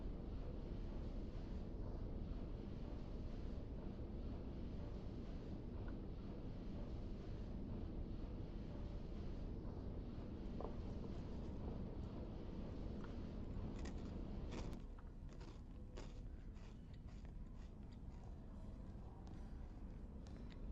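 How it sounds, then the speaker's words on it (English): Low, steady engine rumble aboard a ship, a continuous drone mixed with wind buffeting the microphone, with faint clicks and knocks toward the end. "You can definitely hear the engines rolling."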